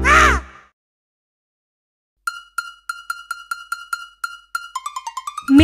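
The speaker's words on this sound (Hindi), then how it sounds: "मैं हूँ कौवा जो करता है काका" Short crow caws ring out in a Hindi children's bird rhyme after a brief pause, a series of clipped calls that quicken into a rapid burst near the end.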